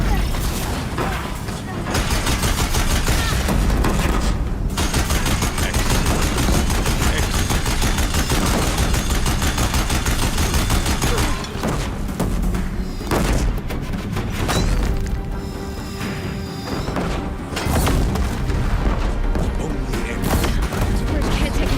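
Deathbringers fire without letup during a video game boss fight, a dense, loud barrage of rapid shots and booms running almost the whole time, with brief dips and talk over the top.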